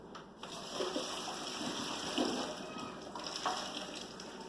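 Hot water gushes and splashes through a strainer as boiled vegetables are drained, a steady watery rush with small surges, fairly close and without talk.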